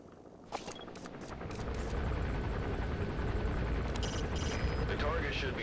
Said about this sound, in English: Choppers incoming.